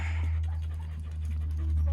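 A dog at an animal shelter pants in quick rhythmic breaths close by, over a low steady background hum.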